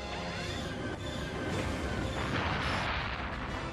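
Starship weapons burst from a Star Trek trailer: a dense, loud roar of booming, crashing fire that swells steadily over a few seconds with no pause, set against a layered soundtrack.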